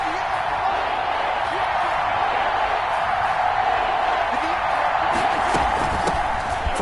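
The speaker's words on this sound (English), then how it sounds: "The crowd getting into it as we come up on a big 3rd down." A stadium crowd in an American football video game roars in a steady, dense wash of cheering ahead of a big third down, loud and continuous for the whole stretch, with a few sharper bursts near the end.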